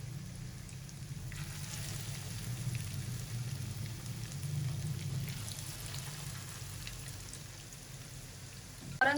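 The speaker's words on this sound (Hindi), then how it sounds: "तो आपने इसको दरमियानी आंच के ऊपर शैलो फ्राई करना है" Coated chicken burger patties shallow frying in oil over medium heat, a steady close sizzle and crackle with a low hum beneath, no talking.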